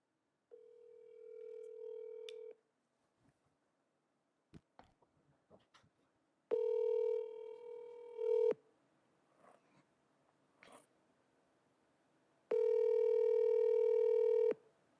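Steady telephone tones come in three long bursts separated by scattered short beeps and clicks, clear and close, with no one speaking.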